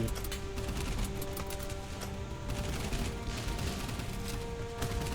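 Sustained naval gunfire from the video game Boat Crew, a dense, continuous rattle of overlapping shots at steady loudness throughout, with no talk.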